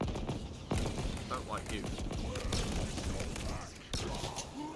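Rapid bursts of gunfire from a gun in Halo Infinite crackle through a busy combat mix, repeated shots layered under someone talking over the action.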